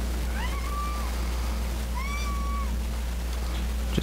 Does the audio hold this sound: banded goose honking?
no